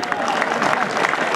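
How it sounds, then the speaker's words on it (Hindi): Loud, dense applause from a crowd at a stage show in India: a continuous wash of many hands clapping at once, close and steady, with voices mixed in. "एक बार जोरदार तालियां।"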